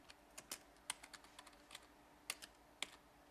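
Typing on a computer keyboard for a Farsi language pack, entered phonetically in Latin letters: a quiet run of light, irregular key clicks with a few sharper taps, close by and alone.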